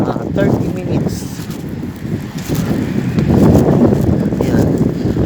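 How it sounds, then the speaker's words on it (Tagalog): Strong wind near Riyadh, Saudi Arabia, buffets the microphone in a steady low roar, with gusts swelling louder toward the end and faint background noise underneath. "Sobrang lakas ng hangin guys. Dito sa may Riyadh."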